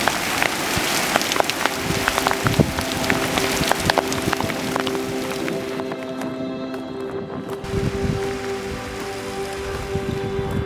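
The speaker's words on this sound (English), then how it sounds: "it is torrential downpour" Heavy torrential rain near the geysers of the Tetons, a dense, steady patter of drops drumming on nearby surfaces with scattered sharper splashes and taps throughout.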